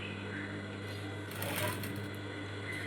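A sewing machine stitches the back part of a blouse with a fast, steady mechanical whirring and rattling that swells briefly in the middle, close by, with a voice speaking alongside.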